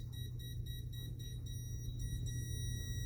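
Faint, steady high-pitched electronic beeping tones from a Klein Tools NCVT-5A non-contact voltage tester repeat over a low hum, close by and fairly quiet.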